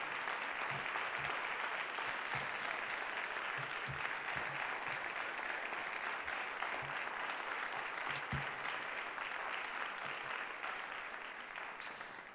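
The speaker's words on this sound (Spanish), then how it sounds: "un aplauso muy fuerte" Steady, fairly distant applause from the audience at the close of a public lecture event, sustained evenly for about twelve seconds before beginning to taper at the very end.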